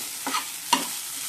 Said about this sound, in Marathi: हा जो साबुदाणा आहे तो ह्याच्यामध्ये परतवून घ्यायचा छान असा